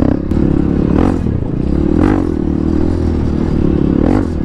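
A Honda CRF 150L trail motorcycle rides off-road, its engine loud and continuous with three surging rev pulses about a second apart and some clatter and scraping, and no talking.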